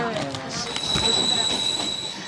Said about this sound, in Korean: 드디어 기차가 공태 철교로 향합니다. 세계에서 두 번째로 높은 고가 철교죠.